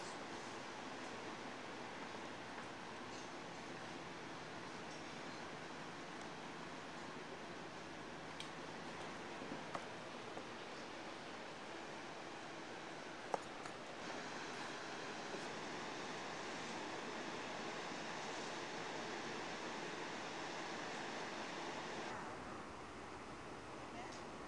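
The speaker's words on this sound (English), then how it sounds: "It's just a peaceful haven, and just listen to the sea" Sea surf rolls steadily outside a hotel in Singapore, a continuous soft wash of waves at moderate distance with a few faint clicks and bumps, no talk over it.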